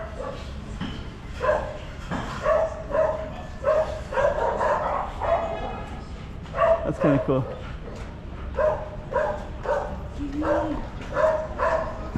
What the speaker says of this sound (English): It's like I can hear dogs in there